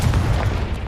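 A single heavy boom bursts from a fiery blasting spell in a Hogwarts game, a short, loud, close blast filling the whole moment with a rumbling low tail.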